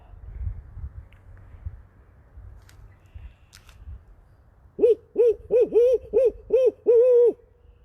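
A barred owl hoots a rhythmic "who cooks for you" series of about eight calls in a quick cluster, clear and fairly close, after a quiet stretch of faint background noise on a spring night.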